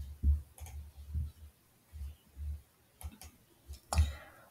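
Computer mouse clicks on a desk, a series of soft, separate clicks spaced irregularly over a few seconds, close and quiet with no talking.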